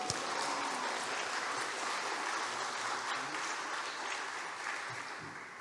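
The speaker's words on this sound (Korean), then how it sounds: "할렐루야로 큰 환영의 박수" A church congregation applauds warmly in welcome, with dense, steady clapping that keeps going without a break and tapers off slightly near the end.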